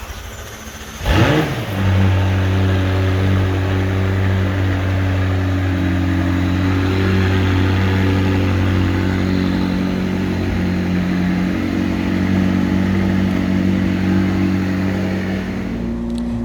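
A McLaren 600LT fires up from cold with a sharp starter burst and flare, then settles into a loud, steady high idle with strong low engine harmonics and a slight dip near the end, no talking.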